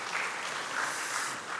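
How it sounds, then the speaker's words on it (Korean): A church congregation at a Korean farewell service for a pastor gives a brief, even round of applause of moderate loudness, with no voices over it. "박수 보내주시겠습니다."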